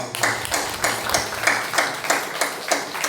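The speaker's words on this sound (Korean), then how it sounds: "박수로." A church congregation claps together to welcome returning visitors at a Sunday worship service, producing steady rhythmic clapping in about ten even beats, loud and close, with no talking.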